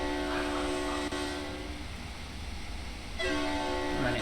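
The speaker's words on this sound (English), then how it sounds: "With the horn lever on this, it activates both horns." Twin horns of a Eurostar train in Train Sim World 2 blaring in two separate loud sustained blasts, the first over a second long, then a pause of engine rumble before the second sounds again to the end.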